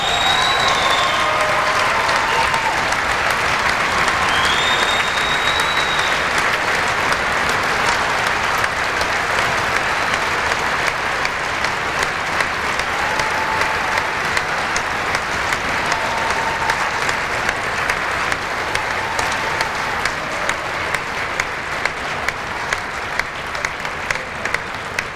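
Sustained crowd applause in a basketball gym honoring the 1993 seniors' parents, a dense continuous wash of hand claps with a few louder individual claps standing out, steady throughout.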